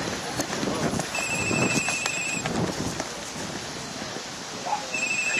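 Clydesdale horses trot in a show ring at a ridden championship, hooves thudding in a steady rhythmic clip-clop at moderate distance over an open outdoor crowd ambience.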